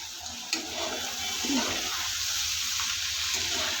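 Prawns frying with onion in a pan after being covered for a couple of minutes, a continuous watery sizzle with a few stirring clinks and scrapes, fairly close.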